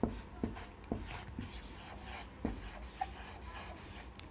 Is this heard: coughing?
no